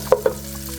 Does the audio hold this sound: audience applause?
no